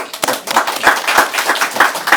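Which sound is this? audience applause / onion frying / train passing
audience applause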